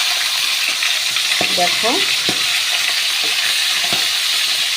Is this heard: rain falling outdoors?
no